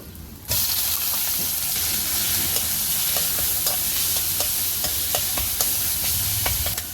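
Neem and red amaranth greens fry in a wok over a clay stove, a steady close sizzle with repeated sharp scrapes of stirring that begin after a short quiet moment.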